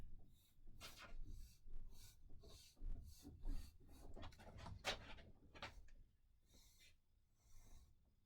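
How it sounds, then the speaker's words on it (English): Rhythmic scratchy rubbing of sandpaper on wood, in repeated back-and-forth strokes, close and fairly quiet, with no talking. "just finish it off by sanding it."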